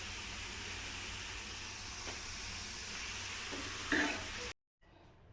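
French fries sizzle in hot oil, a soft, steady crackling hiss that cuts out abruptly near the end.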